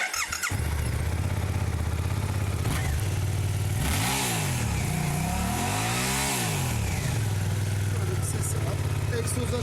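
A Suzuki GSX-8R motorcycle engine sputters to life, then revs up and down in two rising-and-falling swells before settling into a loud steady idle.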